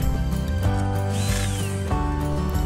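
A power drill drives screws into wooden fence boards for a cattle panel garden fence, its motor whining steadily and loud with a brief pitch shift midway and a short pause near the end.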